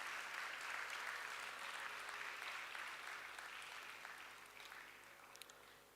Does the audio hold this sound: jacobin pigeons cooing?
no